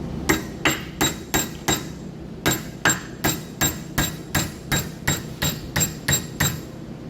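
A hammer strikes a chromoly steel weld over and over, about fifteen sharp, evenly spaced metallic blows that ring out close and alone.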